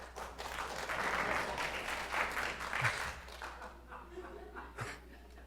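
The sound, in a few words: audience applause during a sermon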